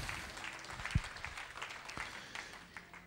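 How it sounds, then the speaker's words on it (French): A church congregation's applause for Jesus, a faint, diffuse patter of many hands with a few louder thumps, heard at a distance. "Applaudissez Jésus."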